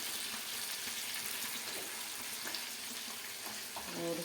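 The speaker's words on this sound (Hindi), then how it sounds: "तो अच्छे से हम यहाँ पे रोस्ट कर लेंगे" Chicken biryani masala roasting with salt in a pan, a dense, even hiss of frying that holds steady throughout with faint scraping underneath.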